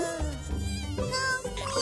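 Cartoon mosquitoes and bugs buzz in a continuous, whiny drone that wavers in pitch, layered with other bright cartoon sound and filling the short moment without speech.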